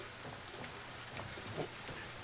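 Steady rain falling outside a theater in the video game The Last of Us Part II, a soft, continuous hiss of drops on surfaces throughout, fairly quiet and with no talk.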